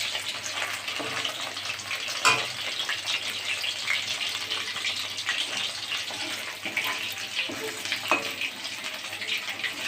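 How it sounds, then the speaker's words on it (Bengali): Chicken pakora pieces frying in hot oil at home give a steady, close hiss and crackle with occasional louder pops, continuing evenly without talk. "এই যে চিকেনটা ভাজা ভাজা হচ্ছে"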